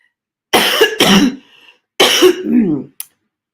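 A person with draining sinuses coughs and clears their throat in a few harsh bursts, close and loud, with short pauses between them and a small catch at the end.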